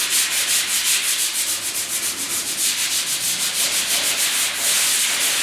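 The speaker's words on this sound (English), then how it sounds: "I put another coat of guide coat on. Just give it a light sand." Light hand sanding with 220-grit paper over a guide coat on the cab bodywork of a 1956 Mercury, giving close, rhythmic back-and-forth scratchy strokes at an even pace, with no voices.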